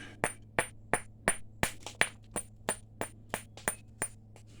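Flint knapping: a stone struck again and again to trim its edge, about a dozen sharp, close cracks in a steady rhythm, heard alone.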